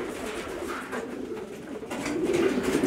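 Pigeons coo close by, with low, rolling, throaty calls that overlap and grow slightly louder toward the end over a steady background.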